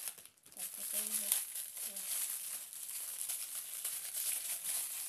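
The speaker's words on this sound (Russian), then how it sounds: "И давайте же откроем этот пакет." A plastic parcel bag from an online order is torn and opened, with close, loud crinkling and rustling throughout and brief bits of a voice in the background.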